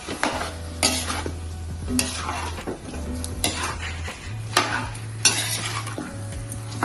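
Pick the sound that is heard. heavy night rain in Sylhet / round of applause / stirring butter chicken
stirring butter chicken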